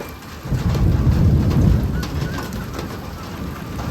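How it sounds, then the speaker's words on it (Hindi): Dense rain and hail drum loudly and continuously on a surface in Delhi, a thick close-up roar with no voices. "पिछले 1 घंटे से ओले बरस रहे हैं इधर।"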